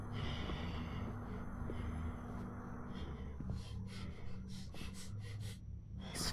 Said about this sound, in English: This weird breathing is freaking me out.